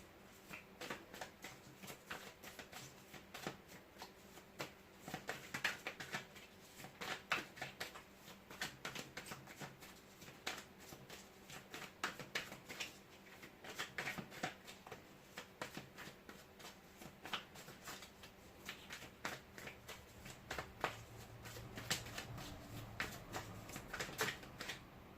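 Tarot cards shuffled steadily for a long stretch, a dense run of crisp riffling flicks and soft slaps, close and fairly quiet, with no talk.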